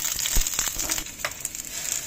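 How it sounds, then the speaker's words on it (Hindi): Onion sautés in a pan for a mixed-vegetable stir-fry with a close, steady frying hiss and several clattering spoon strokes against the pan. "अब हम सबसे पहले डाल रहे हैं इसमें प्याज और इसको सौते करेंगे।"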